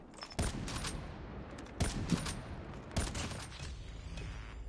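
Sniper rifle shots in the Call of Duty Mobile video game, played with mouse and keyboard, sounding as a few separate sharp cracks spaced about a second apart over a faint steady background, with no talking.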